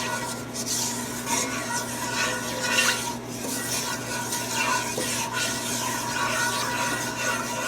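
Spices blooming over low heat in oil and water in a pan for a chickpea and eggplant tagine, giving a steady soft stirring and scraping with faint sizzle, close and even throughout with no talk.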